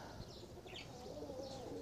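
Pigeons perched on the netting of a cage give soft, low cooing calls. The calls are faint and continuous over a muffled background.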